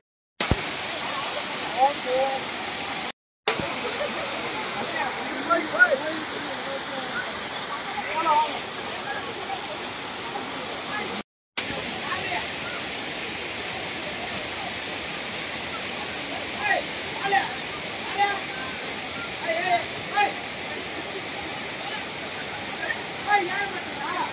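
A waterfall in Tamil Nadu roars in a steady, broad hiss of falling water throughout. Brief dropouts break the sound, and no clear talking is heard.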